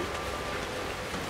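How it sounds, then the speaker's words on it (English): Steady rain falls in the horror video game Outlast 2, a dense, even hiss of droplets that stays faint and constant throughout with no talk. "it's still raining blood"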